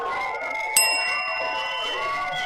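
A single bright bell ding on a comedy talk show, struck sharply once and left ringing with a long metallic decay over a steady background hum.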